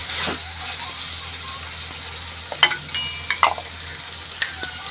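Spices tossed into a hot pan for a purple yam sabzi sizzle and crackle, with a few sharp stirring knocks of a spoon against the pan, close and fairly loud.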